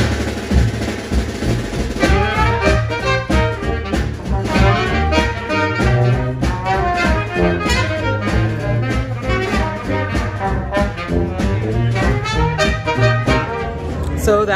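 A brass band plays live inside DBA, a New Orleans music venue, with dense, loud horns and drums filling a busy, continuous groove heard up close.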